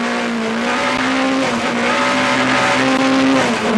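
A Peugeot 205 T16 rally car races up Pikes Peak, its engine holding a loud, sustained, high-revving note up close, with slight pitch shifts as it powers through the climb.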